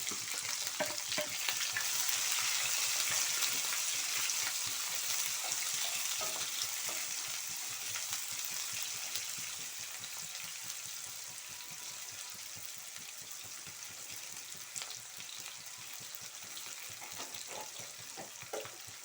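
Sliced onions sizzle and crackle with salt in a hot pan, a steady bright frying hiss with small pops, fading slightly over time.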